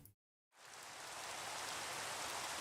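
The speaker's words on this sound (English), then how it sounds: "Whoa, rain." Rain in the Minecraft Nomifactory modpack starts after a brief silence, a steady hiss of falling rain that fades in and holds evenly loud, with no voices.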